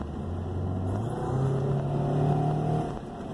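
A car engine revs up and accelerates steadily, its pitch climbing as it pulls away, fairly loud and continuous with no voices.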